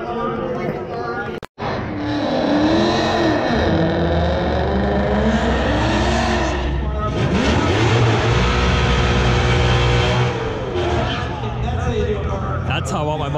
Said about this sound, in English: That's how I want my Mustang to sound right there.